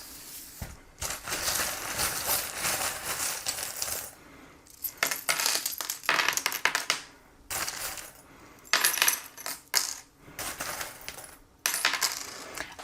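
Small metal tarot charms drop and clatter onto a surface for a reading, in repeated bursts of jingling, tinkling impacts separated by short pauses, close and fairly loud.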